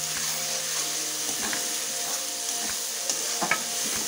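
Green peas tip into a pan of spice masala frying in oil and get stirred, a soft steady sizzle broken by a few scraping spatula strokes and light knocks against the pan, close and without talk.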